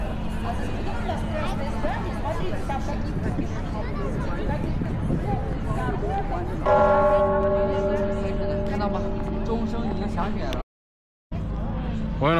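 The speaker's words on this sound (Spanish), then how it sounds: "Están sonando las campanas de la iglesia." Bells ring at an Orthodox church in Moscow over a busy crowd's chatter and street noise, their tones most distinct in the latter half before a brief dropout.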